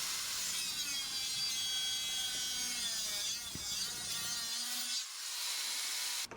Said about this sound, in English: The best tool for this is an angle grinder.